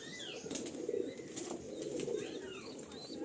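Pigeons in a home loft kept by a pigeon seller, including a green-eyed set, flap their wings in short bursts over a steady low cooing murmur, with faint chirps scattered throughout.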